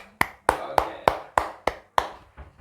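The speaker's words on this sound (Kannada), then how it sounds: "ಸೊ ಎಲ್ಲರೂ ನಮ್ಮ ಮಾಮಂಗೆ ಒಂದು ಚಪ್ಪಾಳೆ ಹೊಡೀರಿ" Hands clap seven times in a steady, even rhythm, each clap crisp and close, with no talking over them, as people applaud an uncle who has just made a dessert powder.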